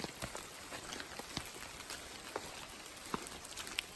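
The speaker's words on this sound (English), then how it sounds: "I am getting the rain right now." Steady rain falls on a hiking trail along the Appalachian Trail, a dense, close patter of drops hitting surfaces throughout, with a few sharper isolated drips standing out and no talking.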